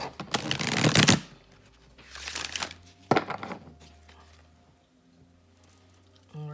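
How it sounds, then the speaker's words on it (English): Cards riffle-shuffled in three bursts, crisp flapping rustles close by, the first longest, with brief pauses between. "Let me shuffle one more time."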